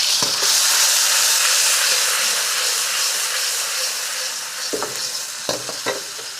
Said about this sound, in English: So I've got a good tablespoon there of garlic. So I'm gonna brown that off slightly.